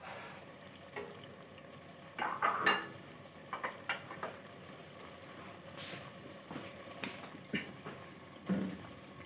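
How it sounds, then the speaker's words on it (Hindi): Yogurt stir-fried in cooking oil for aloo gosht, a close steady sizzle broken by repeated scraping and clinking strokes of a spoon against the pan, with no talking. "अब मैं इसमें ये 4 टेबल स्पून जो मैंने दही ली थी वो डाल के अच्छी तरह से भून लूँगी"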